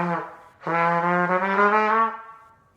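Trumpet playing a low note without abdominal pressure: a short initial blow, a brief gap, then a sustained, somewhat dull tone held for over a second before tapering off, close and alone.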